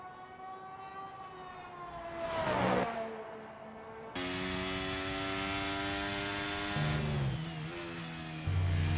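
A racing car laps a circuit in Qatar through corners 12 to 15, its engine a loud, sustained harmonic whine that swells as it passes, with abrupt pitch drops at several gear changes.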